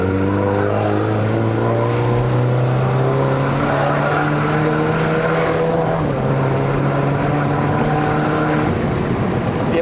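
The engine of a modified BMW F30 320i LCI with a ZF automatic gearbox, climbing a mountain road in Malaysia, pulls hard through the revs with rising tones and a quick gear change, loud and continuous.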